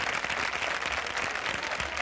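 A concert audience applauds, dense and loud clapping filling the whole short stretch without a break.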